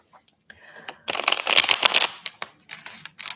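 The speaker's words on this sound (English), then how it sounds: "I'm going to give these another shuffle and get more energy on this reading." A deck of reading cards is shuffled close up, a brief soft riffle followed by a dense burst of papery flicks and a few scattered taps as the cards settle.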